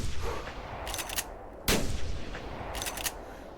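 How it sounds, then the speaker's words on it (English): Two groups of 30-06 rifle shots ring out at bucks in theHunter 2018, the hunting video game. A sharp, loud crack lands mid-clip, and fainter bursts sit on either side of it. "We're going to take a shot at this buck first, and then we'll follow up with the next buck after that"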